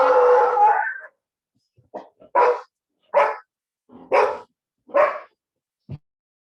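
A dog barks loudly and long at first, then gives a series of five or six shorter, spaced barks and a final soft yip.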